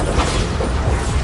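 Bombarda explosion spell in Hogwarts Legacy, a dense, continuous rumbling blast with low booming thuds, loud and close throughout.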